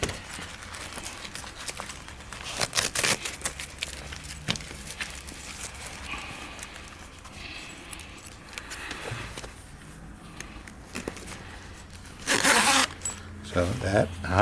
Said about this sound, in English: we zip the bottom part to the seat